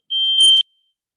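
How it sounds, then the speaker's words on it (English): Fire alarm set off by a roommate: one high, piercing electronic beep lasting about half a second, loud and close, then silence. "My roommate's just set the fire alarm off."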